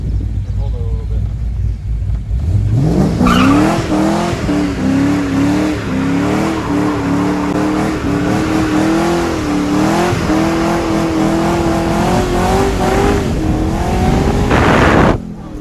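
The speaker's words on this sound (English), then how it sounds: "The burnout, the last burnout this thing's done in months." A car with an LS1 V8 doing a burnout, the engine roaring up and holding high revs over sustained tire squeal, loud and close, with voices underneath.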